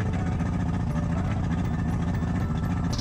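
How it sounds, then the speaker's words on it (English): A six-cylinder outboard boat engine idling steadily after restarting, dropping two cylinders at idle, giving a continuous low rumbling drone at close range with no talk. "Just like that, we've got this engine running again."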